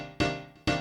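Two piano chords struck in quick succession, each ringing briefly before the next.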